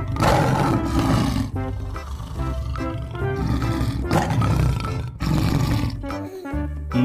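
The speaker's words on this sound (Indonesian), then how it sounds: "Ada singa, teman-teman." A lion roars loudly and steadily across the whole stretch, a dense, sustained rumble with only brief dips, set among animal scenes with a busy, tonal backdrop.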